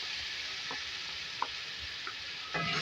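Beef keema with ginger garlic paste fries in a pan as a steady broadband sizzle, broken by a few faint ticks and a louder scrape of stirring near the end.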